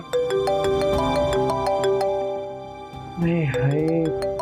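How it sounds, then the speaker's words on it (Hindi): A mobile phone ringtone sounds with an incoming call, a repeating electronic melody of bright tones, and partway through a voice joins in over the ringing. "इसका फोन आ गया।"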